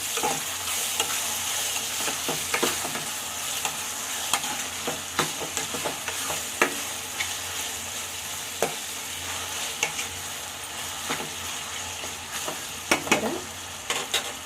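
Small pieces of eggplant and tomato cooking in a pan, a steady close sizzle over nearly fifteen seconds, punctuated by repeated clinks and scrapes of stirring at irregular intervals, no talking.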